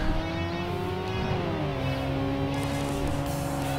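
The Mitsubishi FTO in the racing game Tokyo Xtreme Racer 3 holds a loud, sustained engine drone that rises and shifts in pitch as it revs, with no speech over it.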